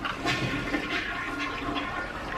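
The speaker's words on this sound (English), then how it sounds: "Flush that toilet, babe." A household toilet flushing, a close rushing gush of water that swirls steadily for the whole stretch.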